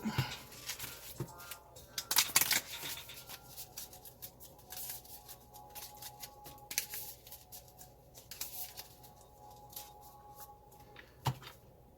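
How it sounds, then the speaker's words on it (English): A deck of game cards is shuffled by hand, with quiet riffling and sliding bursts, a louder flurry early on, then softer intermittent card handling. "Shuffle my deck."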